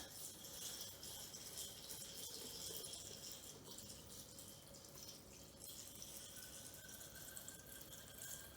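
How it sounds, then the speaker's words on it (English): Water poured into a rock tumbler barrel, a faint, continuous trickling stream with light rattling, heard close and alone at low volume. "Now we put some water in, and then the grit."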